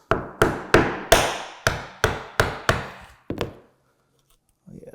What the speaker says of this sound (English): Once you get through the laminate, you're just chiseling through MDF